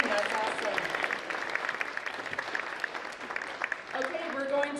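An audience at an academic awards ceremony claps in a sustained round of applause, with voices talking over the clapping.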